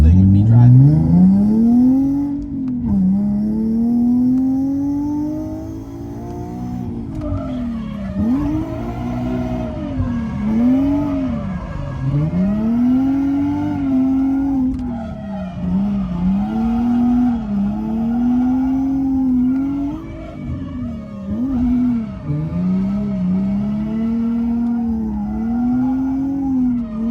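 A budget drift car lapping a track, its engine revving up and down in repeated swooping surges with occasional tire squeal, close and loud for the whole stretch.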